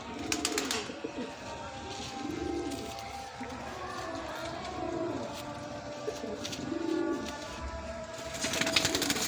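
Teddy pigeons kept by a fancier coo in repeated low rolling bursts, several overlapping, with a person talking at times in the background.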